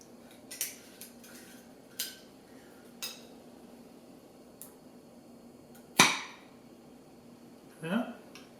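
A sous vide egg bite container being opened, with faint clicks and taps followed by one sharp, loud snap of the lid and a short plastic crinkle, in a quiet room.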